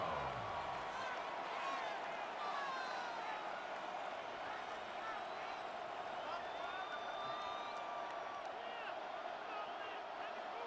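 Steady stadium crowd roar at a Bills vs. Bears preseason game in Madden NFL, a dense continuous wash of massed voices and cheering, loud and unbroken throughout with no distinct individual talk.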